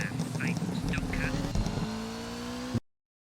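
The rally car engine in the video game Colin McRae Rally 2.0 drones steadily at a sustained pitch, changing tone partway through, with a voice speaking over it before the sound cuts off abruptly.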